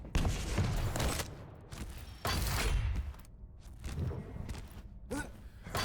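Rocket launcher explosions and lightning gun fire in a fast arena-shooter duel, a busy mix of loud blasts and crackling weapon bursts with short gaps, up close and continuous.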